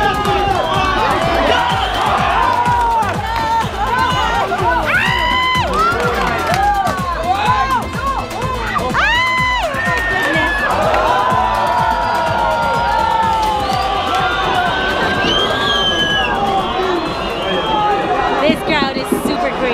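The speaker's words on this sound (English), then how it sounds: "This crowd is super crazy." A lively stadium crowd at an Azkals football match cheers, whoops and shouts continuously, with excited nearby voices and talk mixed into the roar throughout.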